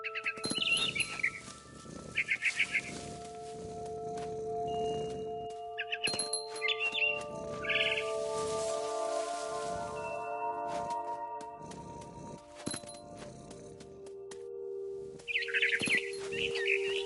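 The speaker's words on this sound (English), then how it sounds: "Then I heard chirping outside my window. It was a barn swallow going back to her nest." A barn swallow chirps in What Remains of Edith Finch, bursts of quick high twittering near the start, middle and end, set against soft game ambience, music tones and pattering.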